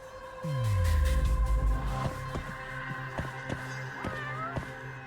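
A cat in the game Judgment lets out one drawn-out, falling meow, fairly close. It is followed by a quieter stretch of light, evenly spaced footstep taps and faint game ambience.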